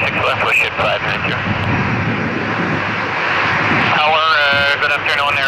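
Airliner taking off from runway 06 left at Toronto Pearson, a loud, steady jet engine roar that swells and rises in pitch, with air traffic radio chatter over it.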